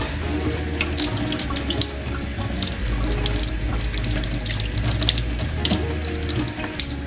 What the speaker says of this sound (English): When I peel them, I just have a bit of running water.